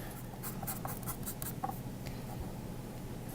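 Chalk scratches rapidly across paper while stars are drawn, giving quick, close, rhythmic strokes over a constant background hiss.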